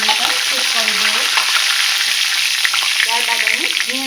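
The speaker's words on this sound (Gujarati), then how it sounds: "જીરુંને સતળાવા દઈશું થોડીક વાર" Cumin seeds sizzle in hot oil in a pan, a steady loud crackling hiss throughout, with a faint voice briefly in the background.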